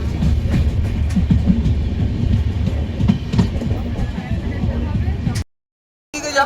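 A passenger train sits at Ayodhya station with a rumbling carriage drone and intermittent clicks and clacks. Crowd noise fills the platform, and the sound drops out briefly near the end.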